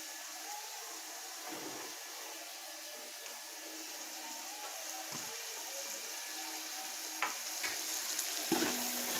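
Mint and coriander fry in oil for mushroom biryani with a soft, steady sizzle, faint and close. A few brief clinks of stirring break in near the end, and no one talks.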